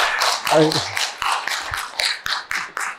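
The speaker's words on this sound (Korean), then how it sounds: "정말 훌륭한 강연 진행해 주신 우 기자님께 큰 박수 부탁드립니다." Audience applause after a lecture by a journalist, a series of distinct claps in an irregular rhythm, fairly close, with a brief voice partway through.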